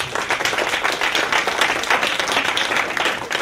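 Audience applause fills the room at a presentation event, a dense, even wash of many hands clapping steadily throughout without pause.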